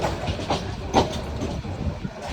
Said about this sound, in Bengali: এই মুহূর্তে আপনার ওই যে রেলটা অনেক বড়, ওই যে বগি, ওই যে ফার্স্ট ইঞ্জিনটা ওই সাইডে